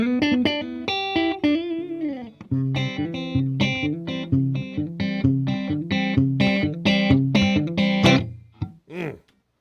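Electric guitar with both pickups selected, a Charger RA with Wilkinson tremolo and vintage-style pickups, playing a loud chordal riff in repeated rhythmic strums with effects, ending in a brief bent note.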